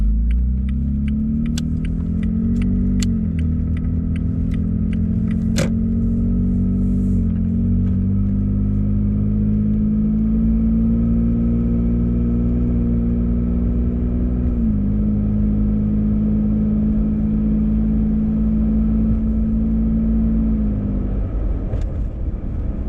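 A 2017 Toyota Tacoma TRD Off-Road pickup with an MBRP TurnDown aftermarket exhaust drones steadily at low cruising speed in city driving, with a deep, even rumble that shifts slightly as the throttle changes and brief clicks early on.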